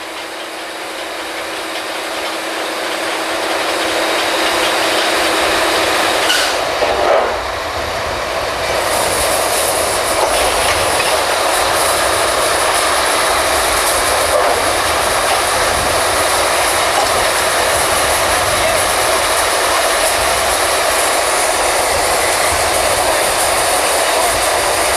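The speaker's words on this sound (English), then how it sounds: "That's the brake man working that winch, the brake on the winch." A winch on a historical kelly drilling rig pulls pipe out of the hole, with a loud, steady rumbling, rattling machine roar that swells and holds throughout, close by and with no talking.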